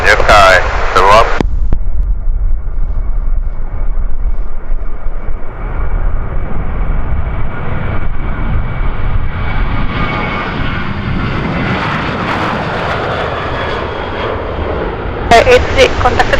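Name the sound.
airliner takeoff roll at Kagoshima Airport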